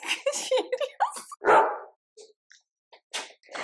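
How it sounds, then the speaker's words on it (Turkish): Several sharp dog barks and yips in quick succession, close by, followed by a few quieter short sounds and pauses. "Havlamak."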